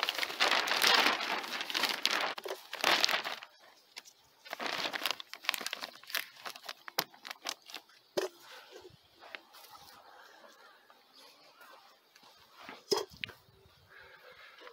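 Transparent plastic sheeting crinkles and rustles over melon and Korean melon plants in a vegetable garden, loud crackling bursts at first, then softer scattered rustles and taps, close by and without talking.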